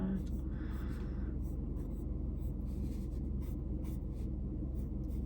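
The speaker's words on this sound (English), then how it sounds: "make lots of pencil noises with the pencil" A pencil scratches across paper in steady, close, continuous strokes, with faint brief lifts and ticks between lines and no voices.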